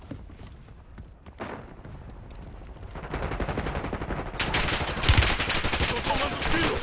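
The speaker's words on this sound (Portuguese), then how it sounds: "Tô tomando tiro!" Call of Duty Warzone gunfire on PS5 builds into dense, rapid automatic bursts that grow louder and more intense toward the end, with faint background game noise.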